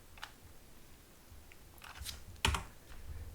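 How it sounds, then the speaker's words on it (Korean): Blender shortcut keys S and Y pressed on a computer keyboard: a handful of quiet, crisp key clicks, spaced irregularly with a tighter cluster near the end, heard close up in an otherwise quiet room. "스케일 단축키 S, Y를 2번 눌러서 두께를 좀 낮춰줍니다"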